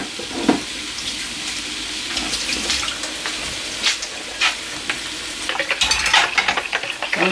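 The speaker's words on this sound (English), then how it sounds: "we're going to add in the stock as well, just to cook that down" Stock poured into a hot pan of broccoli and onions for a prosciutto pasta, giving a steady close sizzle and bubbling, with stirring scrapes and a louder splashing surge near the end.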